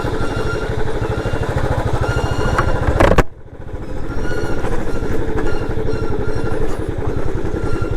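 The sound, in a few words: motorcycle brakes screeching on steep downhill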